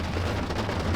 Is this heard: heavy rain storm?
yes